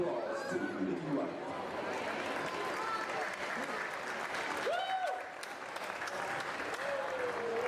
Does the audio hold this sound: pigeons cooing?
no